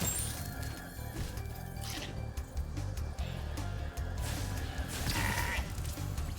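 Sheep bleat in the video game Spyro 2: Ripto's Rage Reignited, with several calls mixed into a busy bed of game music and effects, moderately loud throughout.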